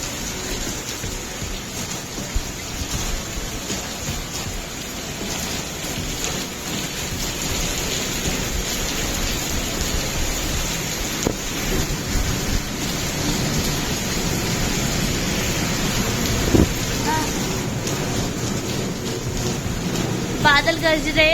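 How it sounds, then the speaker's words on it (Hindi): A steady roar of heavy rain fills the air while low thunder rumbles underneath, the downpour constant and close throughout. "बादल गरज रहे हैं।"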